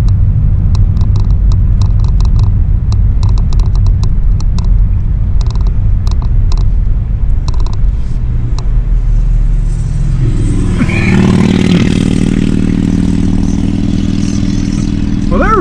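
A car on a short ride on a pretty day, a steady loud engine rumble and road noise throughout, with some rattling clicks early on and a rising rev and shift in tone near the end.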